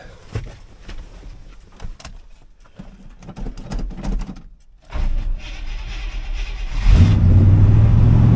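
An old truck that hasn't moved in 15 years is cranked after its battery is hooked up; it sputters unevenly, then catches and settles into a loud, steady running drone, with no talking.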